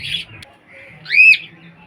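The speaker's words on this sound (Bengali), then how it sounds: "ককাটেল পাখির ডিম ফুটিয়েছে সেই বাচ্চাটি আজকে তোমাদেরকে দেখাবো" A newly hatched cockatiel chick in a breeding colony, with short close squawking calls and a sharp rising chirp among faint background bird sounds.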